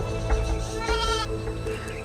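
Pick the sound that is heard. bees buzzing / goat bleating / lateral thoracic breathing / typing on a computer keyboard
goat bleating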